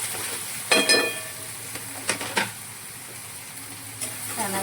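Chopped onion frying in a pan while being stirred with a utensil, a soft background sizzle broken by a few sharp scraping and clinking strokes, fairly close and moderately quiet.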